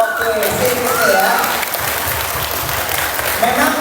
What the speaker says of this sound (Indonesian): tepuk tangan sekali lagi buat Zahra dong